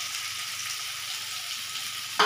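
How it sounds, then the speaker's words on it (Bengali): Onions frying in a pan as they are stirred, giving a steady, soft sizzle with one sharper scrape of the spoon right at the end. "এবার আমি নাড়বো।"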